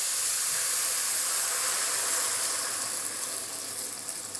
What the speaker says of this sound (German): Jetzt kommt dann noch das Wasser drauf.